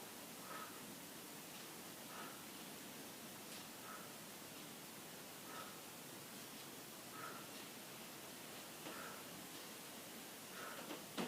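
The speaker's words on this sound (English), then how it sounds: "Can you hear the rain on the roof?" Steady rain drumming on a roof makes a continuous, even hiss that never lets up, with faint ticks of individual drops recurring every second or two.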